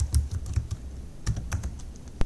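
Close, crisp keystrokes as code is typed on a computer keyboard, two short bursts of clicks separated by a brief pause, with no voice.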